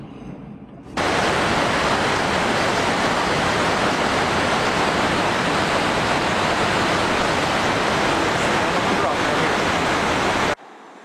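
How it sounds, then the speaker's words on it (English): Rushing water of a stream along the Gibbon River near Firehole Canyon Road, a steady broadband roar that starts abruptly and holds loud and even throughout, close by and without talk. "Oh, beautiful stream."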